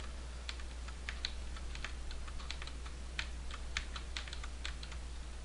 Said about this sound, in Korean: Alt를 누르고 Q를 눌렀다가 Q 눌렀다 Alt 눌렀다가 동시에 눌러봤다가 계속 시도해야 돼요.